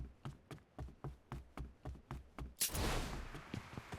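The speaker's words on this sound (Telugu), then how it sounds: "కార్ అది పేలిపోయింది." A car blows up in a video game: a string of sharp, evenly spaced impacts, then a loud broadband blast that roars and lingers to the end.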